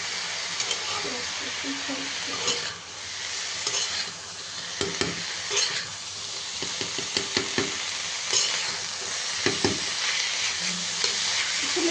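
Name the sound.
fresh garden greens frying in a pan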